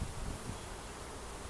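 Uruçu bees (Melipona scutellaris), a native Brazilian stingless species, make a steady, low, dense hum close by while the hive is being opened.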